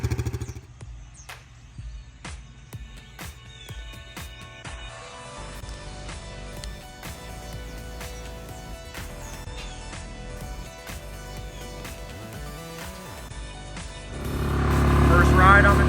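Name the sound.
Grizzly 700 quad engine on first ride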